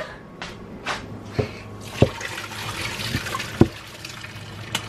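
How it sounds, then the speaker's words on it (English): Boiled potatoes being drained at a kitchen sink, heard as a steady run of pouring water with a few sharp knocks from the pot, and no talking. "So we're going to take it over to the sink and drain it."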